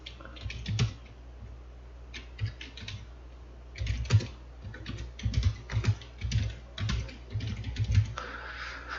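Typing on a computer keyboard to enter text in spreadsheet software, with close, quiet clusters of key clicks in irregular bursts separated by short pauses, and no talk.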